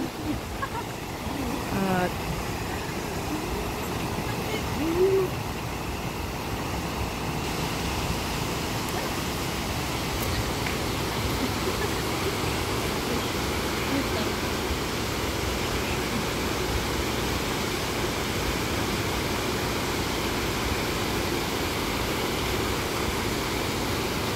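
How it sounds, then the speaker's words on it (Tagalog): Hong Kong Park's central waterfall fills the scene with a steady, broadband rush of falling water, continuous and fairly loud, with faint bits of a nearby voice early on. "ang center of attraction na waterfalls ng Hong Kong Park"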